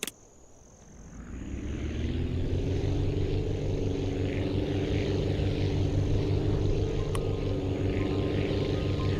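Propeller engine of the Dimmadale Flyer aircraft in a video game, rising after a soft start into a loud, steady droning hum that holds evenly and alone.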